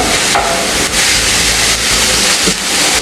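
Crab meat sautéing in a hot pan makes a loud, steady sizzle and hiss, broken every second or so by short scraping strokes of stirring, with no voices.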